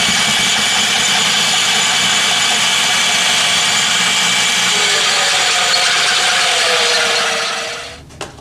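A magnetic drill boring a 1-inch hole in steel at a railroad shop, a steady loud motor whine with grinding cut running continuously, then winding down and stopping near the end.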